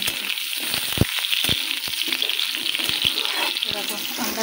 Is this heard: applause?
no